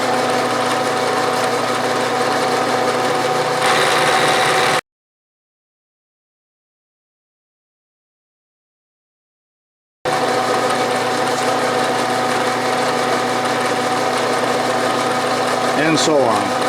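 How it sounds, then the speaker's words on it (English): A milling machine cuts the final surface of a Greenfield tap wrench in a workshop. A steady mechanical whir and hum with tonal drone plays close by, broken by a silent gap, with speech faint underneath. "I will mill the final surface there"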